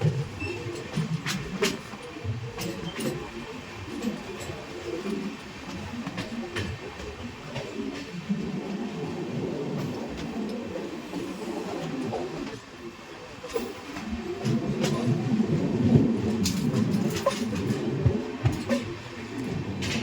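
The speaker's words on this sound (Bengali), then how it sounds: "ভিউ দেখতে দেখতে আমাদের ট্রেন এসে পড়েছে পরশনাথ স্টেশনে।" Train 13151 Kolkata–Jammu Tawi Express rolling toward Parasnath station, a moderate steady rumble of coaches with light rhythmic wheel clicks throughout, heard from inside and swelling slightly near the end.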